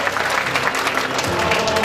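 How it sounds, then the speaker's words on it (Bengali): Loud, dense applause from an audience at a crest-presentation ceremony, continuous clapping filling the whole moment with no pauses. "তাদের জন্য একটা করতালি আশা করি"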